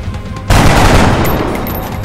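Loud burst of gunfire in the turn-based strategy game XCOM: a sudden sharp volley hits hard and then trails off into a sustained rumble over about a second and a half, with no talk.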